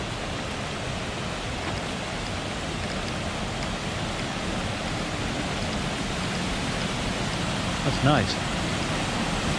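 Small waterfall inside an abandoned mine, a steady broadband rush of falling water filling the space at close range, with a brief spoken remark near the end.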